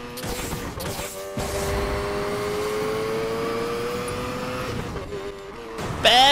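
Engine drone in Need for Speed Payback as a Mazda RX-7 Spirit R races through traffic, a loud steady roar with shifting pitch, brief tire squeal and a sharp burst near the end.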